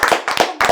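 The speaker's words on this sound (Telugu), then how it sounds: "క్లాప్స్ కొట్టండి రా" A few people clap during a lively home interview, quick sharp hand claps in short uneven bursts, close and loud with no talking over them.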